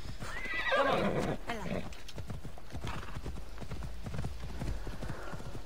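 A horse in the video game Assassin's Creed Odyssey lets out a whinny near the start, then its hooves clop in a steady galloping rhythm that continues throughout, close and fairly loud.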